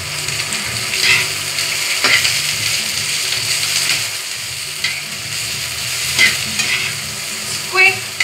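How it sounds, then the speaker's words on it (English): Vegetables sauté in a hot pan with a continuous loud sizzle and hiss, broken by a few sharp stirring clacks and scrapes against the pan. "You just have to saute the vegetables."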